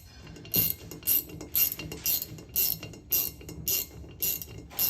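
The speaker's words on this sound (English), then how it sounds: "We'll go ahead and begin to ratchet these down." Ratchet tightening lock nuts on a tank hitch mount, about ten evenly spaced metallic clicking strokes, close and distinct.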